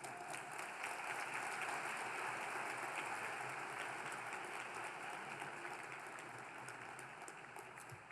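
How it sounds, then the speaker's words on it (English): Sustained applause from an award-event audience, a dense, even wash of many clapping hands that carries on steadily and fades slightly toward the end. "Let's give her a big round of applause."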